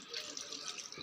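Cold water pours onto cooked taroda wild greens, a short, soft splashing gush like a running tap, heard alone.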